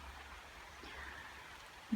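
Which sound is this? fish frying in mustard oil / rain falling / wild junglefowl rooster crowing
rain falling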